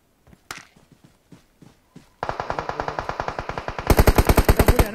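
Automatic gunfire in the mobile battle royale game PUBG Mobile during a South Asia pro league match: a few sparse single shots, then a long rapid burst of shots that grows louder and denser toward the end.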